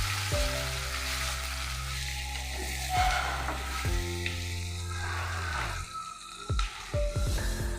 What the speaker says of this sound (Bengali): এদিকে একটা কড়াইতে তেল দিয়ে পনিরগুলোকে ভেজে নেব।